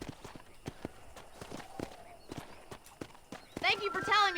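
Horse hooves clip-clopping at a steady walking rhythm in the Red Dead Redemption video game, close and moderately loud, under intermittent speech, ending with a louder neigh-like burst.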